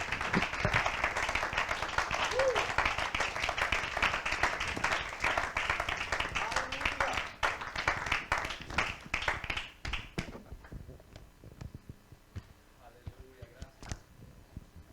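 A church congregation applauding, dense sustained clapping that thins out into scattered claps and fades after about ten seconds, moderately far and quiet.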